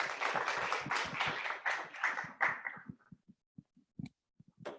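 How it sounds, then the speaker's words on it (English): A seminar audience claps for a group of panelists, with a short burst of moderate applause that thins after a few seconds into scattered single claps and quiet pauses. "If we can give them a round of applause, that'd be great."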